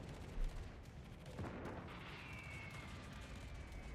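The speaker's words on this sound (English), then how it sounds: "people are shooting at me from everywhere" Continuous heavy naval gunfire and explosions roll through a battleship fight in World of Warships: Legends. A dense rumbling barrage comes from many directions, with a sharper boom near the start.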